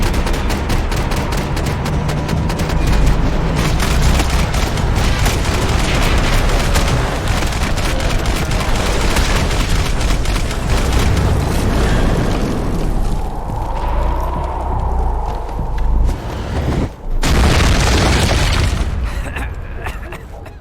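Gunfire in the shooter game Max Payne 3: loud, continuous rattling bursts and booming impacts fill the scene, with a short pause near the end before the firing resumes, and voices are heard under the shooting.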